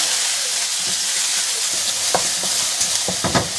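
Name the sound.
stir-frying dried seafood in oil in a wok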